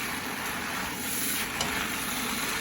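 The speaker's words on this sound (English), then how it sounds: "This is how you do a fried noodle." Angel hair pasta noodles frying in a hot pan for beef fried noodles in a home kitchen, giving a steady, loud, close sizzle that holds evenly throughout, with no one speaking.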